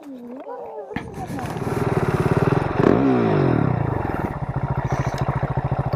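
A motorcycle engine starts and settles into a loud, close, pulsing idle that rises in revs midway and throbs on steadily, with a voice briefly heard at the start.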